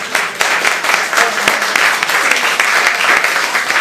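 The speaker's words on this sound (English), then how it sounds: "How about a big round of applause for the kids?" A city council meeting audience applauds children steadily, a dense wash of clapping hands that keeps going without letup for a few seconds.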